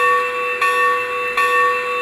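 A PIKO model train locomotive bell rings with evenly spaced, loud metallic strikes, three in two seconds, each one sustaining a bright, steady ring.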